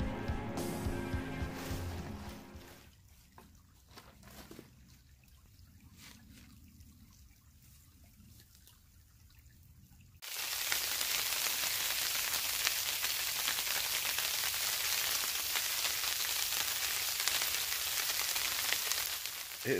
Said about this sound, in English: Freezing rain mix right now.